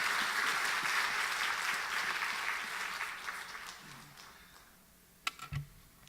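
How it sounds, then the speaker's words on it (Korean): A church congregation applauds to welcome the preacher at a Sunday evening service, a broad wash of clapping that starts full and slowly fades out, leaving a few faint knocks and a brief low thump near the end. "우리 박수로 크게 환영하십시다"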